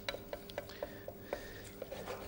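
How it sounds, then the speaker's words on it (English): A pan of melted butter with flour being stirred in for a fish pie, steady soft scraping strokes repeating about twice a second under a faint sizzle, close and moderate in level. "In goes our flour, and we're just going to stir that flour in."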